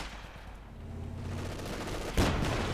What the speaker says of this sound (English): Puma firing, probably to draw in the infantry as the half-track moves up.